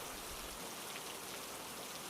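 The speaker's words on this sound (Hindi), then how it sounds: "बारिश बहुत तेज हो रही थी।" Heavy rain pouring steadily in a rural village setting, a dense continuous hiss of drops at even loudness with no voices.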